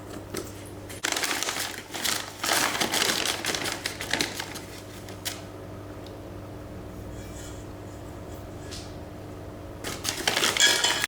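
Rice flour scooped and levelled with a measuring cup in a home kitchen for Sri Lankan hoppers, giving clustered dry scraping, tapping and clinking bursts, then a quieter pause before more clatter.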